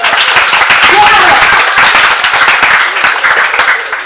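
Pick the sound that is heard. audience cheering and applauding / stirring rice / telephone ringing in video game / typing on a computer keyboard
audience cheering and applauding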